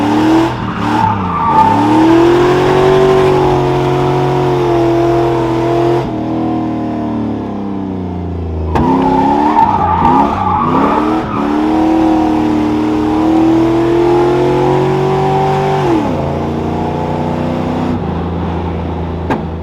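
An LS-swapped G-body car skids around a corner with loud engine revving and tire squeal, the engine pitch rising and falling in two long pulls with brief lifts between, close and alone.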